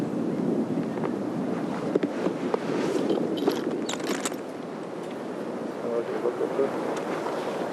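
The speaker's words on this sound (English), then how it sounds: "as he prepares to play, the wind comes up" Gusty wind sweeps across a golf course during a 2000 tournament round, a steady low buffeting rumble that roars against the microphone throughout, swelling and easing slightly.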